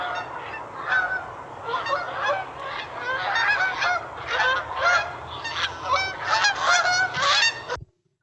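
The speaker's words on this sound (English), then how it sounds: "So that is the Canada goose." A flock of Canada geese honks continuously for several seconds, loud overlapping calls in an uneven rhythm, ending abruptly.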